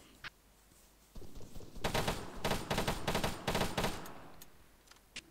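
Gunfire bursts out of a building in a video game firefight. After a quiet lead-in, several loud rapid volleys crackle close by, and single faint shots come before and after, with no voices.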